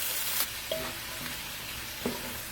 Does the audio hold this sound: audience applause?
no